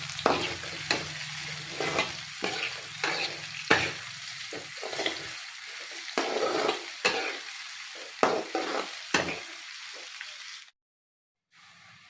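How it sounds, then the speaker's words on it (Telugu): Ingredients with green chillies for mutton biryani fry over a low flame, a soft crackling sizzle broken by repeated scraping stirs in the pan, until the sound drops to silence near the end. "నేను లో ఫ్లేమ్లో పెట్టి ఇలాగ దోరగా వేయించుకున్నానండి."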